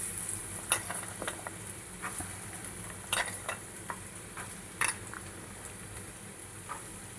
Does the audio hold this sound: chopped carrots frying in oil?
yes